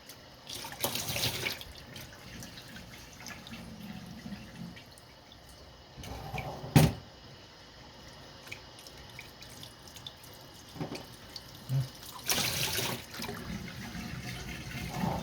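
A tap runs steadily into a sink while rice noodles are rinsed, with a continuous close water stream, scattered drips and splashes, and a few louder gushes, without speech.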